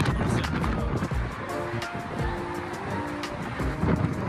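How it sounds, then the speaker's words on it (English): Strong wind buffets a microphone outdoors in Windsor, producing a loud, rumbling roar that surges and dips throughout. "I've just took my microphone out for a bit, just so that you can probably hear how windy it is."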